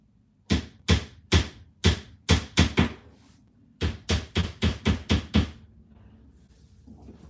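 Hammer blows driving nails into a Target five-shelf bookcase, about thirteen sharp, close knocks in two uneven runs, with a short pause between the runs and a quiet tail afterward.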